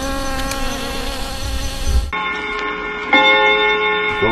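Bees buzz steadily in a raffia palm field during palm wine harvesting in hot weather, a dense close insect drone with shifting tones and no speech.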